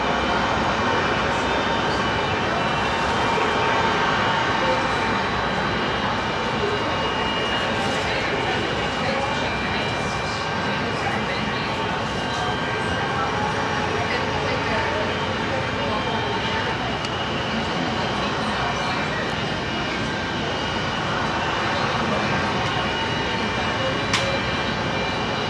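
An airliner takes off from runway 34 right at Seattle-Tacoma International Airport, its jet engines a continuous broad roar heard from a distance over steady background noise.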